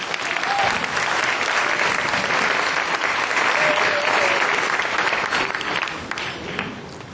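An audience applauds a female performer at a formal event: loud, dense, steady clapping that fills the whole stretch, with no gaps, and eases slightly only near the end.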